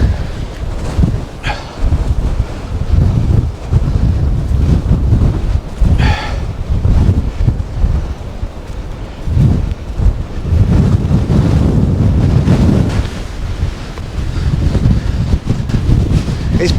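Strong wind buffets the microphone in gusty roaring bursts along the Cornwall coast between Lizard Lighthouse and Kynance Cove, with surf rumbling beneath throughout and no voices.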